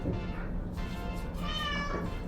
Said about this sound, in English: My kitty cat Carmelita keeps meowing.